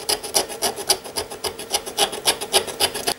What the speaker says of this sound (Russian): Путем физического воздействия на стержень батарейки добываю графитовый порошок.